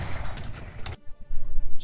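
Loud booming gunfire bursts from the video game Age of Empires 3, a heavy blast followed by a few more muffled shots and thumps.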